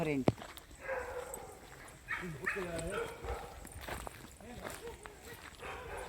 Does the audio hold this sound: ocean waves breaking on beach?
no